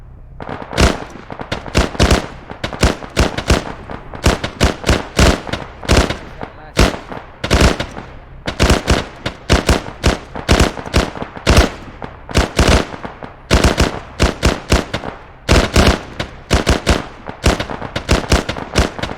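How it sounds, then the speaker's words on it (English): Automatic weapon fire in a tactical shooter game, loud close bursts of rapid shots repeating in uneven clusters throughout, with short gaps between bursts. "let's switch to auto and then we're gonna fire"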